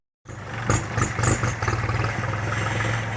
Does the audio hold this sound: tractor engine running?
yes